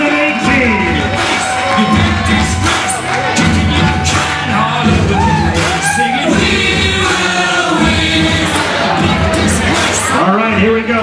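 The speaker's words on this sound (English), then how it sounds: "Everybody make some noise for Kyle Vipper, your class champion" At a motocross dealer cup awards banquet, the crowd cheers, whoops and claps for a class champion, a loud continuous roar of mixed voices with shouts and bangs scattered throughout.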